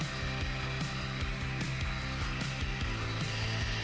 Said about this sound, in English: On the low polisher speed, buff the plastic surface until it's clear